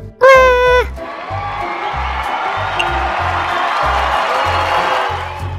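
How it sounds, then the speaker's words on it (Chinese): Game-show style audience applause and cheering welcoming a war correspondent, a loud burst of crowd noise after a brief tonal sting, sustained clapping and whoops with a steady rhythmic beat underneath. "各位观众，让我们掌声鼓励，欢迎这位伟大的战地记者"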